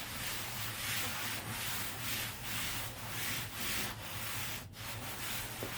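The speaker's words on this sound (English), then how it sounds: "spend a little extra time smoothing it down to the letters" A hand rubs a Chalk Couture transfer stencil smooth over lettering, making a continuous close scratchy rubbing with a gentle back-and-forth rhythm.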